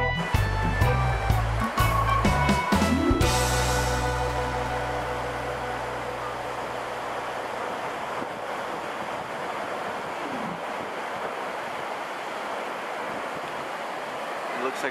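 Water pours down a waterfall in Jasper National Park, a steady broadband rush that holds evenly for most of the stretch after a brief, busier tonal opening; no voices are present.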